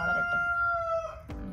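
A rooster crows once, loud and close, a sustained harmonic call that holds steady and then breaks off sharply near the end, heard alone with no talking.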